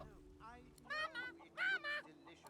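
A squawking, honk-like chicken sound effect from the Divinity 2 video game: a few short bursts of nasal calls, the loudest two close together near the end, over quiet game background sound.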